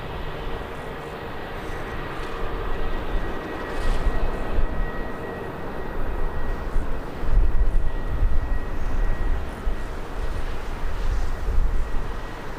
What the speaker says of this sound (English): our second 737, Turkish Airlines 737 of the stream